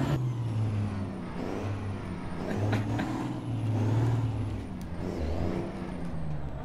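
A rough, droning International 9900i truck engine in a video game idles and revs unevenly, loud and close, with a brief hiss like an air brake.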